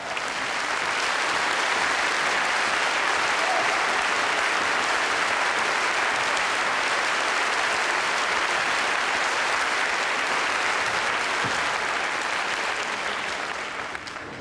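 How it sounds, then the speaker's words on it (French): Applause from a concert audience at the Zenith in Paris fills the space in a dense, continuous wash of clapping that holds at full strength for the whole stretch and eases slightly at the very end. "Donnez-lui un applaudissement énorme."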